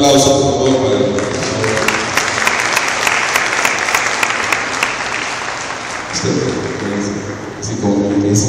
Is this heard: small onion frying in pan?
no